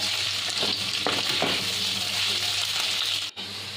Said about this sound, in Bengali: দিয়ে আবার আমি গ্যাসটা বাড়িয়ে আলুটাকে ভাজবো